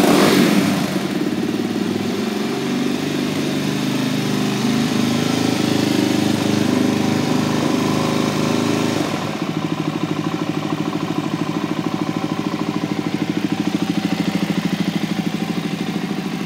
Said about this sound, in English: you can watch the engine go up and down through all its gears